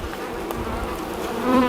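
Honey bees buzz in a dense, steady drone, close up while being extracted from a large log hive, with one bee's hum rising louder near the end.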